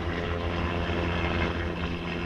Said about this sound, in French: On dirait un hélicoptère.